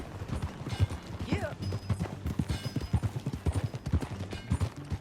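Horse hooves clip-clop at a steady ride in Red Dead Redemption 2, a quick rhythmic patter close by under a voice and other game sounds, with a brief whinny partway through.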